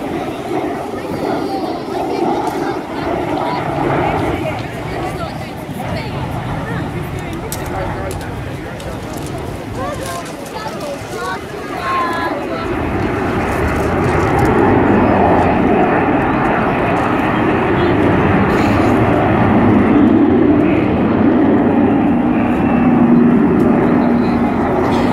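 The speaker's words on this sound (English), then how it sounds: "Here she is then, with the landing gear" An Avro Vulcan bomber flies past with its landing gear down at the Eastbourne Airshow, a loud, rumbling jet roar that swells as it nears, with someone talking steadily over it throughout.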